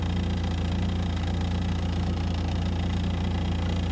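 A 1993 Mazda RX-7 FD3S rotary engine idles near 800 RPM, giving a steady, close, low rumbling drone with a faint rhythmic pulse and no voices.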